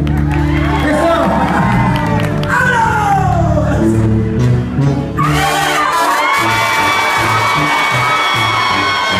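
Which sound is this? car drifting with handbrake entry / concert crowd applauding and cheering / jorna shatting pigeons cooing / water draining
concert crowd applauding and cheering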